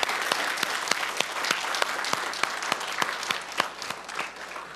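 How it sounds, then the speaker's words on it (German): Mothers at a Mother's Day celebration are given a round of applause, steady crowd clapping with sharp individual claps standing out, sustained and fairly close throughout. "Ein vierten Applaus für ihr."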